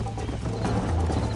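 Horse hooves gallop in Red Dead Redemption, a loud, rapid, rhythmic clatter of clip-clop beats over a dense low rumble, with no voices.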